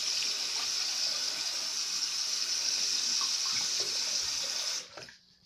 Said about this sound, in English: put your water on